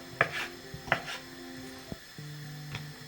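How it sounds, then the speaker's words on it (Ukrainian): A knife chops potatoes into small cubes on a board in a few sparse, sharp cuts with quiet pauses between, close by and fairly soft. "я їх поріжу дрібненько"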